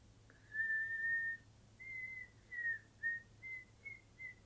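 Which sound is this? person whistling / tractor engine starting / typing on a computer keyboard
person whistling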